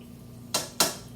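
Two quick scraping clinks of a utensil in a pan of carbonara, close and sharp, separated by a brief pause over a quiet low hum.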